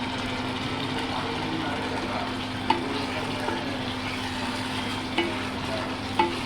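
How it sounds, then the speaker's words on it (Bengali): Chilli chicken frying in a pan with soy sauce and vinegar gives a steady, moderate sizzle throughout, with a few faint stirring clicks and scrapes. "এইরকম ভাবে অল্পক্ষণ আমি ভাজবো।"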